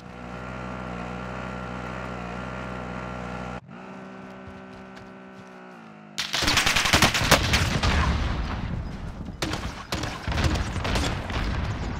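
In Warzone, a steady engine hum gives way halfway through to loud, close grenade launcher explosions and gunfire, several sharp bursts with a rough, crackling booming tail between them.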